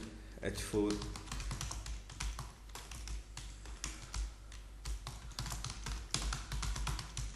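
Rapid, uneven keystrokes on a computer keyboard as a trading note is typed, close and crisp, with short pauses between bursts; a voice talks over part of it.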